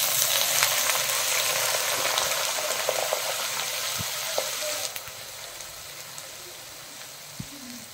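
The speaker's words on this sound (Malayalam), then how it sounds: "നമുക്ക് അതിലേക്ക് ഉള്ളി ചേർത്ത് കൊടുക്കാം" Shallots dropped into hot oil and sautéed for an onion theeyal curry, giving a steady, dense sizzle that runs the whole time, easing slightly in the second half, with a few faint stirring taps.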